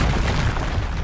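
A Confringo spell blast in Hogwarts Legacy lands as one short, loud booming burst with a low rumbling body.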